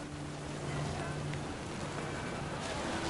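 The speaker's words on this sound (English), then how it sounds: "The rain came down in buckets then, but no one seemed afraid that nature might destroy the tent our dad had crudely made." Rain drumming on a crudely made tent in the video game What Remains of Edith Finch, a steady close hiss of falling drops with a low tonal hum running underneath.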